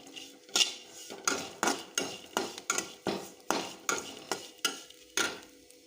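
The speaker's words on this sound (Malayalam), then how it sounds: "തേങ്ങ ഞാൻ വറുത്തെടുക്കാം" Grated coconut roasts in a pan, stirred with a metal spoon in a quick, even series of close scraping clinks over a faint dry sizzle.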